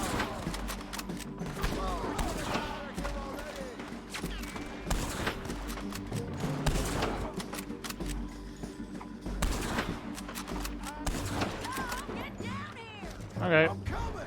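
Scattered gunshots in Red Dead Redemption 2, repeated sharp cracks spread through a busy scene, moderately close and mixed with footsteps and ambient noise, while a person talks over much of it.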